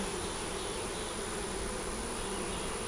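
Honeybees buzz at an opened hive during a routine inspection, with brood and larvae inside, making a steady, dense drone that holds unbroken throughout with no voices.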